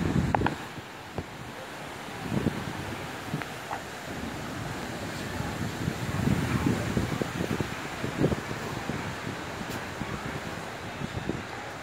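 Wind and ocean surf at a Panama City beach, viewed from a hotel, form a steady broadband wash with gusty rumble and occasional swells, continuous and moderately loud with no talking.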